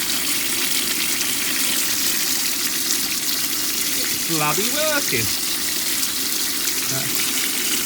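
Water from a homemade pond filter sieve, a bakki-shower style unit, pours steadily as a continuous broadband gush throughout, with a man's brief exclamations heard over it.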